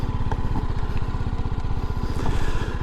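A motorcycle rolls through slow-speed U-turn practice on a Devon road, its engine putting out a steady low, throbbing idle-like pulse close to the microphone with no talk.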